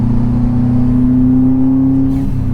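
Subaru WRX engine on a cold day holding a steady, loud drone with a strong low harmonic hum and slight rising whir, heard from inside the car while driving, with no talking.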